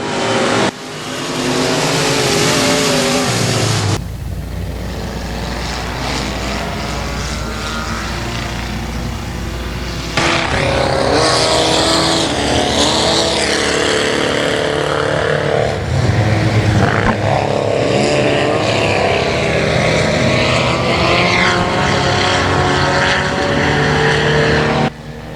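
Front-wheel-drive 4-cylinder dirt track race cars at a speedway heat race, engines roaring continuously and loud, surging as cars pass with a brief lull near the start and a rising full-pack roar after.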